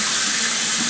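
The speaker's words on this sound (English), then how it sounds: "I'm gonna get some cold water on my face." Cold tap water runs steadily into a sink as soap is rinsed off a face after shaving, a continuous close splashing hiss with no voices.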